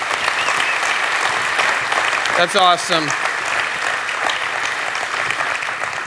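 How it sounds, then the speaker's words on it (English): Church congregation clapping, a steady wash of applause filling the room throughout, with one voice briefly speaking over it midway. "I just want to applaud you."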